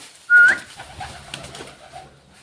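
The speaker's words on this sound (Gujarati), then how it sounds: "જો તમે બધા ઘરમાં બેઠા છે કબૂતર." Pigeons in a home loft setup give one loud, close coo, then softer murmuring coos and faint rustling continue in the quiet enclosure.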